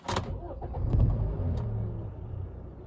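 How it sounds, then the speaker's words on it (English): A car engine cranks and turns over, settling into a low, steady idle rumble close by. "I'm gonna start the engine, and you guys can see what the car sounds like"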